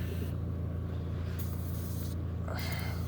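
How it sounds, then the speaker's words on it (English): Acid neutralizer is sprayed from a can onto the battery area of a generator whose battery exploded, giving two or three hissing spray bursts over a steady low background hum. "Just spray some of that in there"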